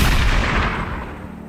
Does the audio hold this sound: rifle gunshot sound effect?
yes